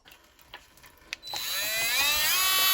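A Hyper Tough rotary tool spins a burr against a very hard piece of petrified wood: a few faint ticks, then a loud, steady high whine that stays close and rises slightly as the tool is pushed hard.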